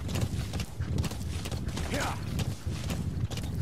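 A horse in the video game Metal Gear Solid V clip-clops with a steady run of hoof beats and a brief whinny partway through, heard alongside someone speaking.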